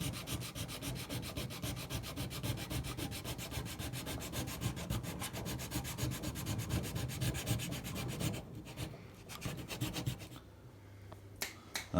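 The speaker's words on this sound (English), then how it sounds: "then sand it down so it's nice and flat" The cut-off lugs on a metal detector coil are sanded flat by hand, giving a close, steady rhythmic rasp of rapid back-and-forth strokes that thins out and stops near the end.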